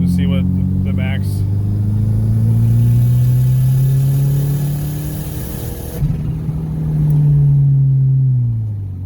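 A turbocharged Subaru Legacy pulls hard in a fourth-gear roll-on, its engine droning loudly and steadily rising in pitch, easing briefly mid-run before surging again, heard from inside the car.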